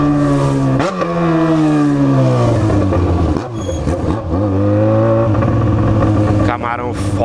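Rush-hour road traffic with a nearby engine droning loudly and repeatedly revving up and easing off, while someone talks over it.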